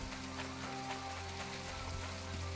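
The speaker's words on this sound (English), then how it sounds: "It's nasty and it's raining." Rain in the game My Time at Portia, a steady hiss of falling drops under a low ambient hum, constant and even throughout with no talk.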